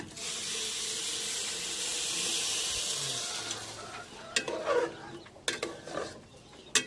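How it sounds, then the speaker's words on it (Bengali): Hot water poured onto fried rice in a pot for biryani: a steady hissing rush that lasts about four seconds, followed by sizzling and clattering of the pot as the pouring stops. "গরম পানি"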